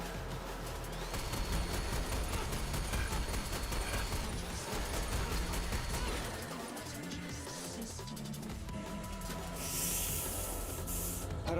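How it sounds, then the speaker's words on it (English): Machine gun fire in a video game: dense, continuous rapid bursts rattle without pause throughout, loud and close, with a hissing spray swelling near the end. "there's new machine guns"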